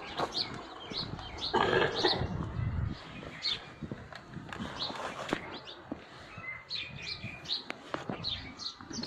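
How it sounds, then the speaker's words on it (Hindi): Outdoor birds in a village chirp in short, repeated high tweets, scattered across the scene, with farm-animal noises and some movement in the background. "चिड़िया"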